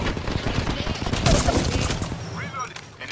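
Rapid bursts of gunfire from an enemy squad in the battle royale game Apex Legends, loud and close, with dense overlapping shots under game sounds.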